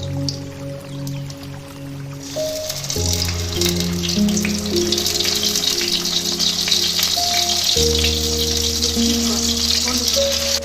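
Ginger, green chili, onion and tomato paste fry in hot oil with a steady, bright sizzle and soft crackle, over background music with held tones.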